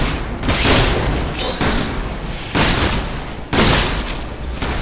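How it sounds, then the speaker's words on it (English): Shotgun blasts from the Resident Evil 6 video game, roughly four loud, heavy booms spaced about a second apart over dense, rumbling game noise. "How many shotgun blasts does it take to the face?"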